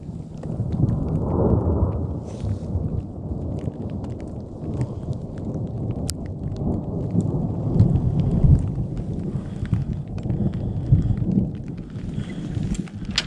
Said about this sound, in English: I don't know if you can hear that, but there's thunder rumbling